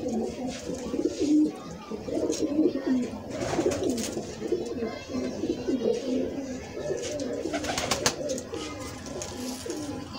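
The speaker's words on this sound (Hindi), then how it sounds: "किसी भी किस्म का कबूतर चाहिए होए ते मिल सकदा जनाब" Several Lahori pigeons coo close by in overlapping, throaty rolls, with occasional rustling and clatter in the background.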